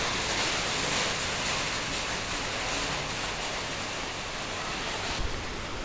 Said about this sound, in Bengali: টিনের চালা তো, ওইখানে আওয়াজ বোঝা যায় বৃষ্টি, দেখুন আওয়াজ হচ্ছে বৃষ্টির